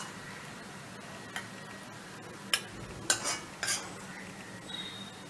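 Spoon scrapes and taps against a bowl while mashed eggplant bhorta, made with milk, is scooped in, a few soft scattered clinks and one small cluster of knocks over a faint steady background.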